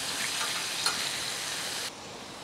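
Spiny lobster tails sizzle steadily in a hot pan, a close, even frying hiss with a brief sharper pop near the middle, dropping abruptly to a quieter simmer toward the end.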